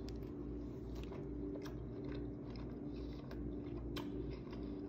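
Biting into and chewing a seared tomahawk ribeye steak, with soft repeated crunchy bites over a steady low rumble of background noise, quiet and close with no talking.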